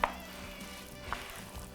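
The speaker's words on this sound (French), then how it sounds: "je vais mélanger le tout" Pomegranate bread batter being stirred in a bowl, soft wet squelching and scraping with two faint clicks of a utensil against the side, quiet and close with no voices.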